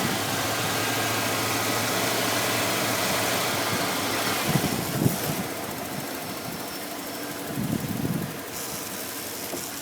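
A Ford E150 van's 351 V8 runs steadily at idle, a constant close engine hum with broad noise over it, a couple of brief thumps partway through, and no talking.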